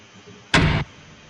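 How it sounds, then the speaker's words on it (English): A single short door-lock clunk, a sampled mechanical thump lasting about a third of a second, stands alone against near silence as part of a music track. "So this is called door lock."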